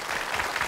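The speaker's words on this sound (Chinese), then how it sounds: "好，我们掌声有请张家小伙儿。" Studio audience on a Chongqing TV talk show breaks into applause, a steady wash of many hands clapping at moderate loudness through the whole brief moment, with no talking over it.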